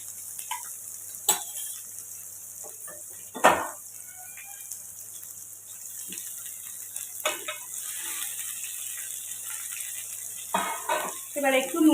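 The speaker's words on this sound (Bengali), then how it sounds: "পেঁয়াজগুলো দিয়ে ভালো করে ভাজা ভাজা করব।" Chopped small onions frying in oil for a fenugreek lentil dal, a soft steady sizzle with occasional stirring clatters and utensil scrapes across the pan.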